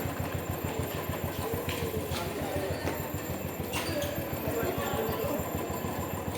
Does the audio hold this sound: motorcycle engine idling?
yes